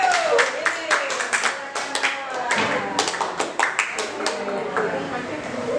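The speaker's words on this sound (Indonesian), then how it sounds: "Kelompok dua, tepuk tangan." A group of teachers at a training session claps in a patterned rhythm, sharp bursts of varying spacing over several seconds, close by, with voices talking over and between the claps.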